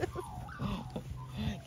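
A puppy whimpers and yips in short bursts, fairly close, with some background noise and faint voices.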